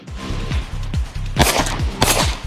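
Two loud, sharp pistol shots crack about half a second apart at a biathlon shooting stage on West Texas terrain, preceded by rhythmic shouted calls.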